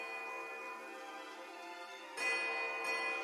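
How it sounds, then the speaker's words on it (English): Delicate silver bells on grass stalks ring together in a sustained, shimmering chime across Pillars of Eternity II's windswept field, swelling louder partway through as the bell tide surges. "the tide of ringing bells sweeps you off your feet"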